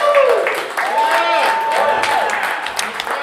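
Audience applause and cheering follow a live bluegrass-style band set at the WDVX Blue Plate Special radio show, a dense wash of clapping with voices and whoops mixed in, loud and close throughout.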